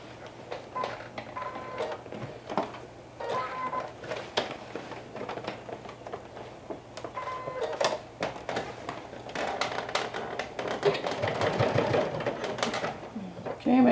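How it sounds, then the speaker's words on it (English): Sewing machine stitching a bucket hat seam with a 1/4 inch allowance: a steady, fast mechanical whir and patter running throughout, close and moderately loud, with someone talking over it. "let's go ahead and stitch all around those pins with a 1/4 inch seam allowance"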